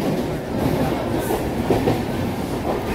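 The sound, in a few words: train travelling on rails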